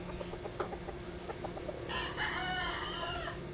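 Fighting roosters and chickens at a Filipino poultry yard, a rooster crowing loudly nearby over steady background clucking, with a series of short clucks earlier and a sustained crow toward the end.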